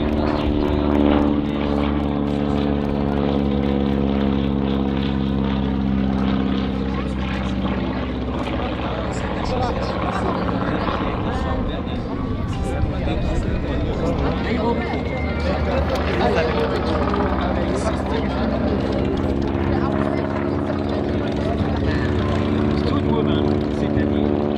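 A propeller aircraft, a Yakovlev trainer, performs at an air show, its engine droning loudly and continuously with a rising and falling pitch as it manoeuvres, while a commentator talks over it.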